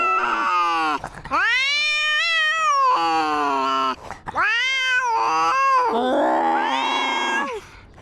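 A cat yowling and meowing loudly up close, several long drawn-out cries with sliding pitch separated by short pauses, with no talk over them.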